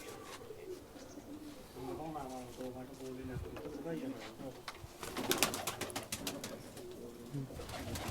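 Pigeons coo in soft, repeated throaty murmurs close by, mixed with fluttering and people talking nearby.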